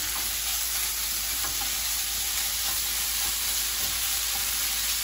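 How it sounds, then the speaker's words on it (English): Chorizo sizzles in a pan without added oil, a loud continuous frying hiss with occasional soft scrapes as a spatula breaks the meat apart, close up with no voices. "we're gonna let this cook for a little bit and then we'll come back to check on the chorizo"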